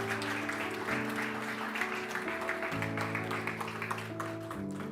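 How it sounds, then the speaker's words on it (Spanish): A church congregation at a Sunday service, standing and applauding, gives a dense wash of clapping. It runs steadily beneath sustained music with keyboard-like chords. "dale un aplauso a Jesús y ponte de pie."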